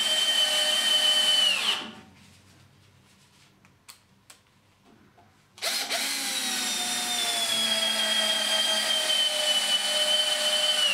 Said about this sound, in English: This machine will drive screws like this in quite easily and it is a lot quieter